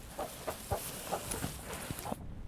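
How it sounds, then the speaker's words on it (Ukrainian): Chickens cluck softly in a short series of quick, scattered clucks, a bit distant and faint, without any talking. "О, дивіться, яких тут курочок."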